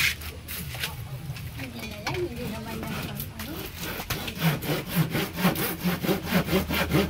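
A hand saw cuts through wood in steady rasping strokes that speed into a regular back-and-forth rhythm, with people talking over it.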